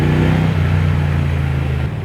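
A low, throaty engine rumble from a Triumph Speed Twin motorcycle exhaust, steady and loud, with a deep idle-like drone close by.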